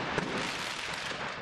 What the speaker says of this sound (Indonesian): Kepanikan warga bertambah akibat mendengar letusan petasan yang bersahutan dari dalam ruko.